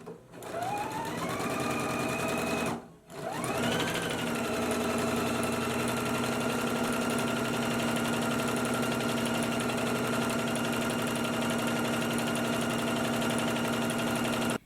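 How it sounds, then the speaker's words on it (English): A sewing machine stitches a narrow hem on a dress ruffle, whirring steadily up close, cutting out briefly and then restarting and running evenly to the end. "I also went ahead and did my 5/8 of an inch narrow hem while I was at the sewing machine"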